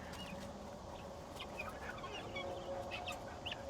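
Guinea fowl call from nearby in short, scattered clucking bursts against quiet outdoor background, several calls spread across a few seconds.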